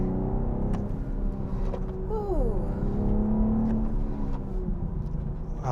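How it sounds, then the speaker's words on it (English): A 2021 BMW M440i coupe downshifts on the road, its engine note climbing and falling in a pitch sweep before pulling again under a steady, close cabin drone. "Yeah, I'm downshifting."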